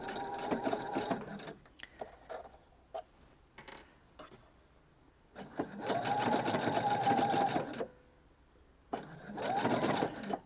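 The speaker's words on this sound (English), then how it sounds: "the machine will start by just sewing a few stitches in the hem" Sewing machine running a blind hem stitch on a garment hem, quiet and close; short bursts of stitching early, then two longer steady runs of rhythmic needle clatter with brief pauses between.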